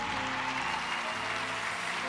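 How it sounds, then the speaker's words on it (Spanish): Continuous applause from a congregation at a Spanish-language church conference, steady and dense with low voices mixed into it. "Si ese aplauso es para Dios,"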